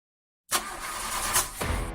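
A car engine cranks over and over without catching, a close, steady churning grind that begins abruptly and runs for about a second and a half with no voices.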